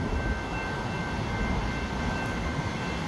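A Siemens Nexus suburban train rumbles toward the South Road level crossing at Brighton Beach, Victoria, a loud steady low roar with a faint high whine from the crossing or the train, wind noise mixed in and nobody talking.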